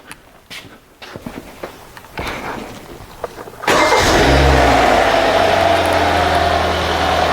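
A Hyundai Sonata engine with a rough-running fault, cranking and starting at about four seconds into a loud, steady idle after quieter clicks and movement from inside the vehicle.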